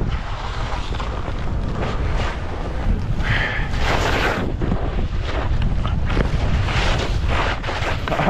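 Strong wind roars across a high mountain ski bowl at Aspen Highlands in Colorado, loud gusts pounding the microphone in uneven surges, with no voices heard.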